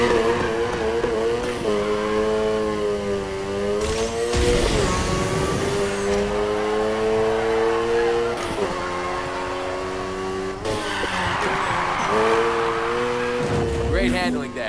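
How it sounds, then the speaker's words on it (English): Drifting car in the racing video game Need for Speed Heat, a steady engine drone with long sustained tire squeal through most of the stretch, loud and close, with bursts of skid noise and a voice talking over it. "I want to see you maintain the drift."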